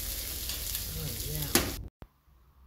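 Onions hitting hot oil on a comal at a Mexico City market, a loud close sizzle with a sharp burst near the end before it cuts to quiet.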